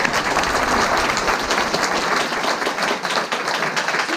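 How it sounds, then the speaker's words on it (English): An audience at a motivational talk applauds, dense sustained clapping from a large crowd throughout. "Hey, give yourself a big round of applause."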